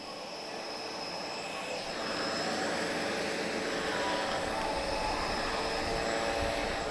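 Spanish-registered Yakstars Patrol aerobatic aircraft taxiing at an airshow, a steady propeller-engine drone heard fairly close, swelling slightly louder partway through and holding without talk.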